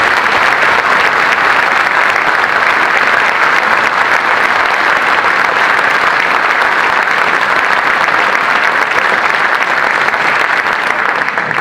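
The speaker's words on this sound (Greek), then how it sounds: "Δώστε τους το πιο ζεστό σας χειροκρότημα." Loud, sustained applause from an audience at a regional political campaign event in Central Greece, dense clapping that continues steadily from start to finish with no speech over it.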